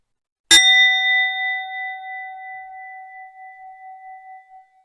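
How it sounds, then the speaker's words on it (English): A single meditation bell is struck once and rings out clearly in a quiet room, its pure tone sustaining and slowly fading over several seconds with no other sound. "We'll begin this meditation with a bell and end with a bell"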